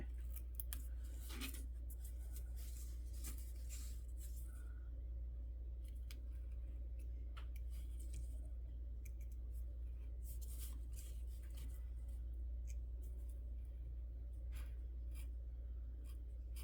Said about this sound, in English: This is that heavier, like kind of brown paper, like really heavy brown paper. So it takes a little bit more to cut it.